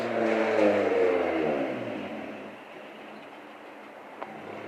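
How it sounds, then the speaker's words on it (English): A loud vehicle roars past nearby, its engine rising and then fading away over a few seconds, with a faint click near the end. "I got my loud car. Let everybody hear my loud car."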